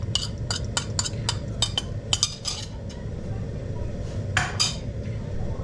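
A utensil scrapes garlic off a cooking pan while butter chicken is prepared, giving a run of sharp metallic scrapes and clinks in an irregular rhythm over a steady low sizzle, close by.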